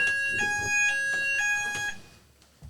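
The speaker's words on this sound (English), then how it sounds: "Genuinely a fire alarm, which I don't think is a drill." A building fire alarm rings with a steady electronic tone and shrill harmonics, close and fairly loud for two seconds, then drops away quietly.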